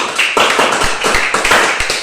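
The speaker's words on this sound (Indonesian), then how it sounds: "beri tepuk tangan dulu untuk semangat" Children in a classroom clap their hands together in a quick, rhythmic pattern of repeated beats, loud and close, with no talking over it.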